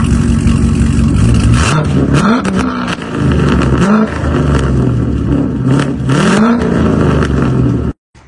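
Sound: Corvette engine revving with loud exhaust

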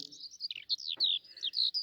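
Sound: skylark song

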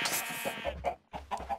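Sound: chickens clucking in video game

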